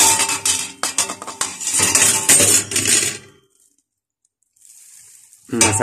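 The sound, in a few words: meat and masala sizzling in a cooking pot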